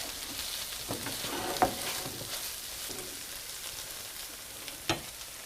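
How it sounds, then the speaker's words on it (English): Shrimp coated with tomato paste being stirred in a frying pan, giving a steady close sizzle with scraping stir strokes and two sharp utensil knocks against the pan. "Give it a good stir to coat all the shrimp."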